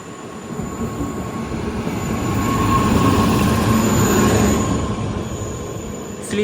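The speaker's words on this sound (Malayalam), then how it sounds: "ട്രെയിൻ നമ്പർ 16160 കടന്നു വരികയാണ്." The Mangaluru–Tambaram express, train number 16160, arrives at a station in Kerala with a heavy rolling rumble and a faint wheel squeal that swells to a peak midway, then eases off.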